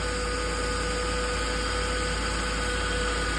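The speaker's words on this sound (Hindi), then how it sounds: "भाई ये देख लो V12 इंजन है" A Supra V15 engine swapped into an i20 car idles with a constant, even drone and low vibration, a steady mechanical hum that runs unbroken and moderately loud with no talking.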